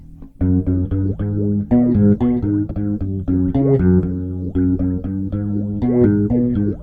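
A bass guitar played through two effects pedals, with rich, sustained notes and swelling, shimmering overtones in a steady riff.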